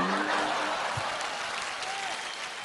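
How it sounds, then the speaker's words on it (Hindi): Studio audience at a comedy show breaks into loud, sustained applause, a dense wash of clapping that holds steady and eases slightly toward the end, with a voice briefly heard underneath. "मनीष पॉल के लिए जोरदार तालियां।"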